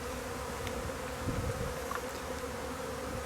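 A clustering honeybee swarm hums in a dense, continuous drone just after bad weather, close and even, with no voices.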